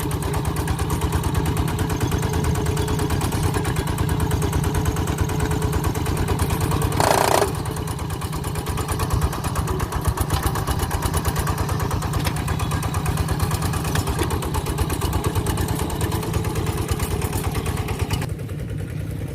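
A small single-cylinder walking tractor engine chugs steadily throughout at close range while ploughing a rice field, loud and continuous with a rapid low thumping rhythm.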